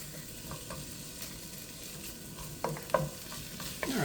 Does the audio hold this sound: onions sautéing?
yes